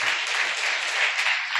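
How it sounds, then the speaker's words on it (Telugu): A church congregation at a Telugu worship service claps in praise, a bright, dense burst of many hands that runs steadily and fairly loud from start to finish. "చప్పట్లు కొట్టి ప్రభుని మహిమపరుద్దాం"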